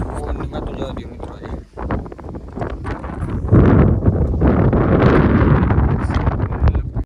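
Gusty wind sweeps across an open cumin field on a farm, a steady broadband rush that swells louder partway through and buffets the microphone, with someone talking over it.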